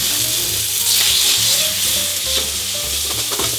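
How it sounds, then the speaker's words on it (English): Spaghetti tipped into a frying pan with meat for a classic Italian carbonara, sizzling and frying steadily with stirring and scraping throughout, close and fairly loud, no voices. "What we are going to do now is to put the spaghetti inside the pan. Straight in with the meat."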